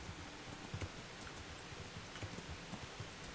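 Rain falls in the Kingdom Come Deliverance video game, a soft continuous patter with scattered heavier drops and faint knocks underneath, moderately quiet and without speech.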